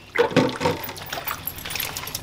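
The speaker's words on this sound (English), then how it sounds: "Drain this water out right here because we don't want that water right there." Water draining out of a kitchen sink where chitterlings are being cleaned, a gurgling, splashing rush that starts suddenly, surges, then keeps trickling and sloshing close by.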